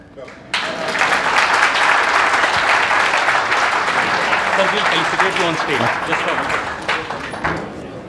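Loud, dense audience applause at a talk session bursts in suddenly after a brief pause and carries on steadily for several seconds, easing slightly near the end.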